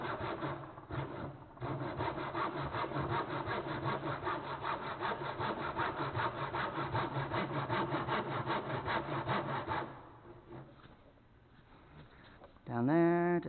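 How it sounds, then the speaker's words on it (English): A hand saw rasps through wood in quick, steady back-and-forth strokes for about ten seconds, close by, then stops; a brief squeak follows. "And complete the sawing."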